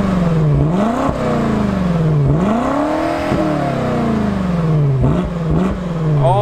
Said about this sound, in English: it's got our titanium M Performance exhaust too. So it sounds really mean, sounds great